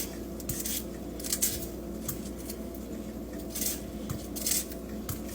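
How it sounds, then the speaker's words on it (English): Knife chopping peppers on a cutting board in a home kitchen, a few soft, irregular taps and scrapes over a steady low hum, with no speech. "I'm going to cut up some pepper"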